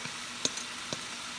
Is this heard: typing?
no